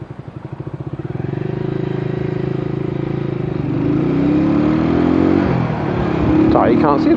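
A motorbike rides at night in rainy weather, its engine chugging loud and close, then rising in pitch as it accelerates, with a voice briefly sounding near the end.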